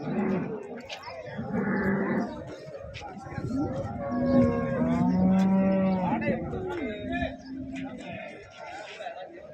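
HF dairy cows moo loudly and repeatedly at the Ghodegaon cattle market, a few long, drawn-out calls standing out from busy background chatter while people talk nearby.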